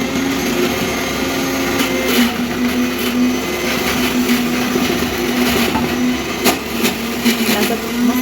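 An electric mixer grinder whirs loudly and steadily, blending chutney to go with dosa in a home kitchen; a constant close motor drone with a high whine runs without pause for the whole stretch, with no talking over it.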